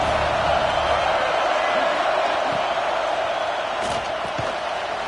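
Stadium crowd noise in an American football video game, a steady loud roar of cheering with a few sharp thuds, under continuous play-by-play commentary.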